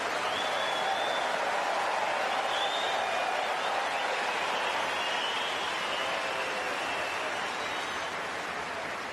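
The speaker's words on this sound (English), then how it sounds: "Expect a huge cheer if Verdasco does manage to convert this" Australian Open tennis crowd applauding and cheering for Verdasco, a dense steady roar of clapping that holds loud throughout with scattered shouts.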